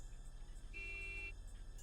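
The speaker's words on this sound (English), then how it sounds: "honked once quickly" In the Higurashi When They Cry video game, a single quick car horn honk sounds once, a short clear tone over a low, steady background hum.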